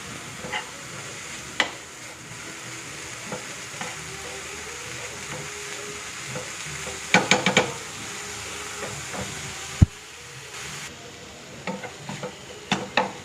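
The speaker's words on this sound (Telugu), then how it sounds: "ఇప్పుడు దీన్ని మంచిగా కలుపుకుందాము." Broccoli roti mixture stirred in a pan, with a steady low sizzle and soft scraping throughout, punctuated by a few brief clatters and knocks of the utensil against the pan.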